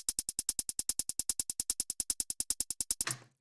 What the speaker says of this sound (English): Basic hat roll.